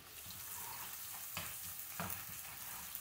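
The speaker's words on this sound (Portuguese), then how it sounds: "Vamos estar dando uma murchada na cebola, não deixar ela escurecer" A small onion and two large seeded tomatoes wilting in a pan for tomato pasta: a faint, steady sizzle with a couple of soft stirring scrapes, low in level throughout.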